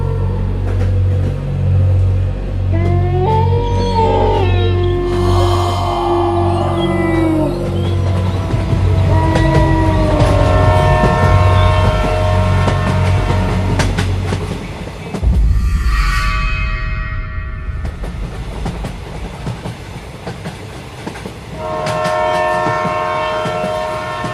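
Coromandel Express train rumbling along the rails at night, with a loud continuous low roar, horn-like tonal wails and clattering wagons, then a sharp shift around the midpoint before the running noise resumes.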